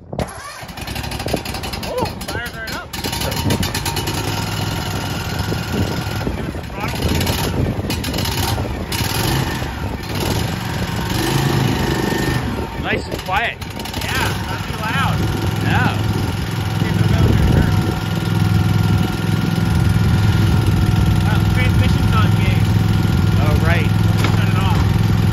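Cub Cadet Ultima ZT1 zero-turn mower with a 50-inch fabricated deck cranks and fires up, then settles into a steady, loud engine idle that runs throughout, with people talking over it.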